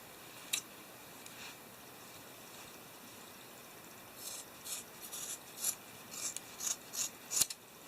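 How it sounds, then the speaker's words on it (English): Scissors trim extra fuzzy sock fabric on a plush toy: faint, close snips and rustles, sparse at first and then coming in a quicker run of small cuts toward the end, over a quiet background. "then we're just going to trim off this extra sock at the end"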